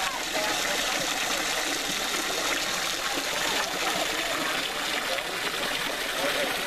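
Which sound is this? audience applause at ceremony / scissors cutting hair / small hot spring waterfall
small hot spring waterfall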